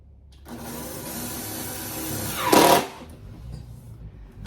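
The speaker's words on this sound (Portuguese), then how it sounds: "Agora eu vou parafusar." One sustained whir of a power screwdriver drives a screw into a kitchen cabinet gas piston. The motor runs close and steady, then peaks in a brief strained burst as the screw seats, and quiet follows.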